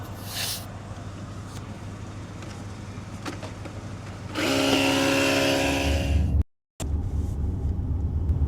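A portable automatic air pump inflates truck tires to 50 PSI, a loud, steady mechanical whir with a motor hum that kicks in partway through, running close by over an outdoor rumble, briefly cutting out before carrying on.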